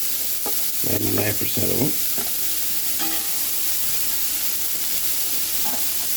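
Onions sizzling in a pan, a steady close hiss with light crackle, briefly overlaid by a short burst of a man's speech near the start.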